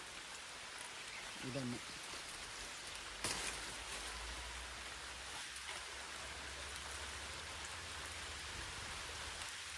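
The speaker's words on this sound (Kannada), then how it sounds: "ಮಳೆ ಬಂತು." Rain falls in a rural village setting, a soft, even wash of patter at low level throughout, with a brief voice, a sharp knock and faint talk mixed in.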